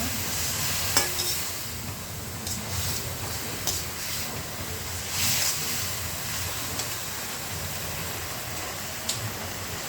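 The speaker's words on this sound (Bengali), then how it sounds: "নাড়াচাড়া দিব।" Taro leaves (kochu shak) with ground cumin are stirred in a pan, a low steady frying rustle with occasional clinks and scrapes of the spoon against the metal.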